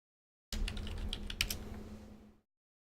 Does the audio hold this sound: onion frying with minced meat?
no